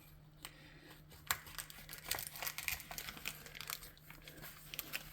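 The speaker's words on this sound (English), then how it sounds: "I'm going to start at this end with a nice sharp knife and cut into this packaging." A sharp knife slices into the plastic packaging of baby back ribs, producing close, soft crinkling and tearing rustles that build into a busier scratchy stretch, with no talking.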